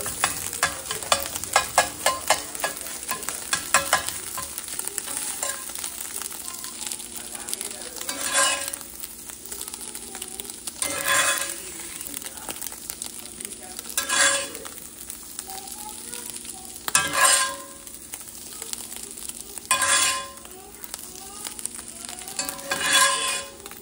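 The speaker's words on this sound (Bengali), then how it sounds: "এখন জাস্ট ডিমটা ভেজে নিলাম" Egg frying in a pan, a continuous close sizzle broken by repeated louder bursts of stirring and scraping every few seconds.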